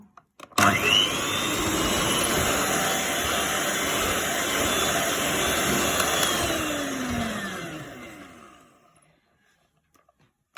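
An electric mixer whipping sugar into a fluffy mass for a Raffaello cake, starting abruptly and running as a steady loud high whine for about eight seconds before winding down into silence.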